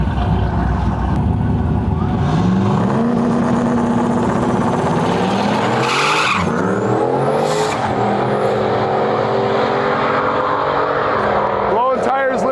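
A turbocharged LS drag car of about 1,000 horsepower launches at a Canadian drag-and-drive event, its engine roaring loud and constant with rising and falling whine as the tires spin, while people talk in the background.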